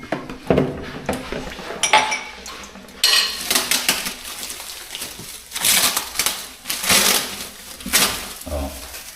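A knife cuts and tears into a package in a kitchen, with crinkling, scraping and clattering bursts coming in uneven rhythm close by, and occasional speech in between.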